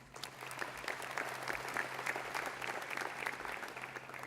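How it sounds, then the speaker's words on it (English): A round of applause from the audience at an agricultural national congress, steady dense clapping throughout at moderate distance, with a faint low hum underneath. "can we have a round of applause for these organisations?"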